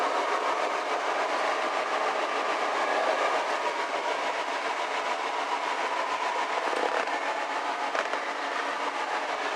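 A steady broadband whoosh of the heater blower fan in a 1964 Ford Thunderbird convertible running continuously, even and unbroken, with no talking.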